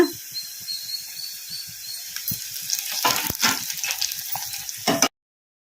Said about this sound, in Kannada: ಒಣಮೆಣಸಿನ್ಕಾಯಿ ಕೂಡ ಒಂದು ಸ್ವಲ್ಪ ಫ್ರೈ ಆಗಿದಾವಲ್ಲ ಈಗ ಇದಕ್ಕೆ ಕರಿಬೇವು ಹಾಕೋಣ